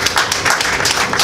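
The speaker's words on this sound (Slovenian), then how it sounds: "Tako da še en aplavz za njo," Audience applause for Nuša Smolič at the opening of Slovenia's first Art Expo, a dense, steady wash of many hands clapping close by and continuing through the whole short moment.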